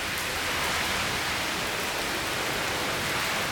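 Heavy rain pours during a severe thunderstorm, a dense, loud, continuous hiss with no voices.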